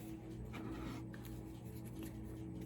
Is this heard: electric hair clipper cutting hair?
no